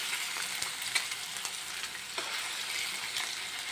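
Lollipop chicken pieces frying in hot oil give a continuous crackling sizzle with occasional louder pops and light stirring clicks. No one speaks.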